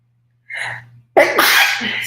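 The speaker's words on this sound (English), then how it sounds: "I'm going to sneeze." A sharp inhale is followed by a loud, explosive sneeze close to the microphone, then a breathy exhale.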